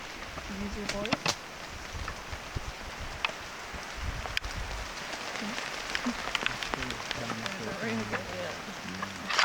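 Rain pattering down outdoors at night during a paranormal investigation on a rural road, a steady soft hiss with scattered drop ticks under people talking nearby.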